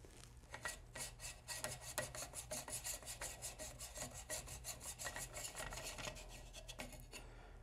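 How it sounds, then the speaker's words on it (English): A lens being unscrewed on a fiber laser engraving machine gives a close, quiet, steady run of rapid rasping scrapes from thread grinding against thread, with no one talking. "All you gotta do is unscrew the old one and screw the new one in its place."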